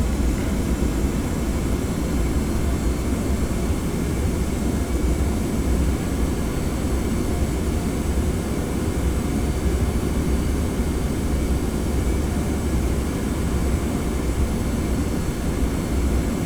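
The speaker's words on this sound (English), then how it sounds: "Try not to taxi too fast, and we'll try and keep on the lines." A Boeing 717 airliner taxiing in the Prepar3D V4 flight simulator, a steady, loud jet engine drone and rumble that holds unchanged with no talk over it.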